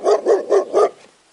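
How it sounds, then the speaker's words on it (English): A dog barks four times in a quick, even rhythm, each bark loud and close, followed by a short fading tail with no voices. "D for dog."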